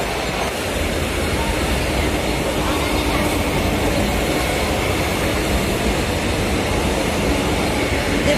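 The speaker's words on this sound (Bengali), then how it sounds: "ট্রেন যাচ্ছে একটা," A train rolls past with a steady, loud rumble of wheels and rail noise that fills the whole stretch without pause, heard near a railway line in Navi Mumbai.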